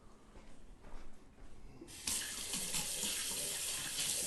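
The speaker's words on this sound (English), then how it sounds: "I'm going to wash my hands." A kitchen tap starts running about halfway through and keeps up a steady, close hiss of water over the sink while hands are washed, during cooking of a cabbage lasagna.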